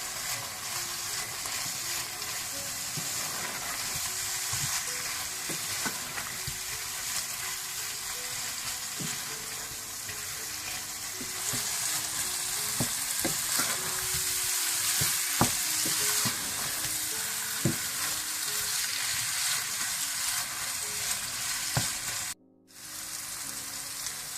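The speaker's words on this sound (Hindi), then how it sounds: "आप इसमें टमाटो पेस्ट डाल दें, पिसे हुए बादाम डाल दें और इसको फिर अच्छी तरह से थोड़ा सा भून लें।" Tomato paste and ground almonds sauté in a pot for chicken handi, a steady close sizzle with repeated stirring scrapes and spoon knocks, briefly cutting out near the end.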